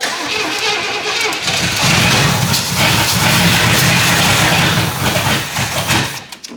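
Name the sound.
1977 Pontiac Grand Safari engine cranking and starting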